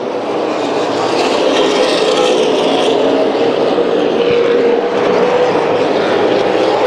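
Super late model race cars roar around an oval track, a dense, loud continuous engine drone that swells and shifts as the pack passes.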